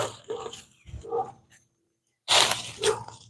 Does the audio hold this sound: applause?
no